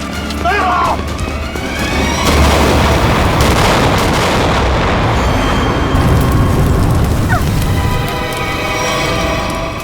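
A grenade blast at a petrol pump in a crime drama booms loud and close, a heavy roaring rumble that sustains for several seconds, with a second burst partway through.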